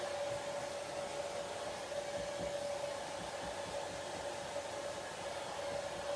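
A hair dryer runs steadily on high to dry tacky paint on a sign, a constant loud whooshing blow with an even tone, alone with no talk.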